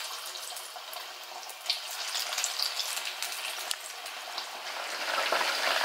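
Fish pakoras frying in hot oil, a steady bright crackle and sizzle with small pops throughout, close and continuous with no talking.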